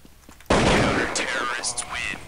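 Gunfire in Counter-Strike 1.6 on the de_tuscan map during a 5v5 match: a sudden loud burst of shots starts a sustained close-range volley that keeps going to the end, with faint talk before it starts.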